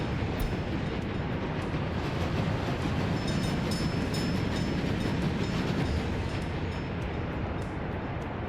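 A train rolls steadily along rails in MegaCity 19, a city-building game, a continuous loud rumble with faint clickety-clack, heard alone throughout.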